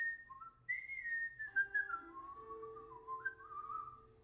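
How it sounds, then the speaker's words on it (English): A person whistling a tune, a clear solo melody of sliding, held notes that rises and dips in pitch, fairly close and quiet, with no talking over it. "You should appreciate what I just whistled."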